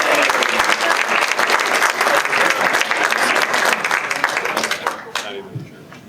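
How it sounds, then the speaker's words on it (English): Loud, dense applause from a large crowd at an economic forecast breakfast fills the space, then fades out toward the end. "Give yourselves a big round of applause."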